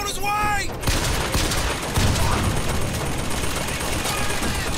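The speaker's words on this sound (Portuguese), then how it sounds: "Ah, por que ele tava atirando em mim, impressão minha?" Rapid gunfire from a BioShock Infinite firefight crackles in dense bursts, a steady fusillade of shots with some louder booms and a brief synthetic tone at the start.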